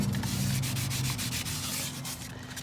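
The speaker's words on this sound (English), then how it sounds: "Try to grind up all of that junk and get it off of here." Wet sandpaper grinds built-up grime off a Mustang GT exhaust tip, producing a dense, steady rubbing rasp up close with quick repeated strokes and no voices.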